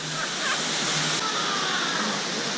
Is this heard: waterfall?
yes